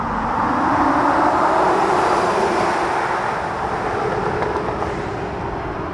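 A heavy dual-motor electric pickup truck on large tires accelerates past. It makes a loud, steady, broadband roar of tire and road noise that eases slightly toward the end, with no voices.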